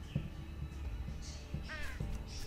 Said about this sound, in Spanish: Pinches cuervos